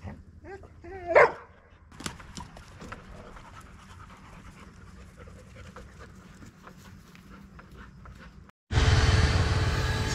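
Dogs pant and give a sharp bark or yip during play, moderately close, followed by a sudden burst of loud broadband noise.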